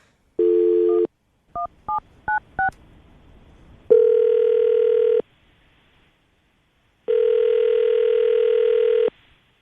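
Touch-tone dialing beeps in a quick series, followed by two long electronic ringback tones with a pause between them, clean and close.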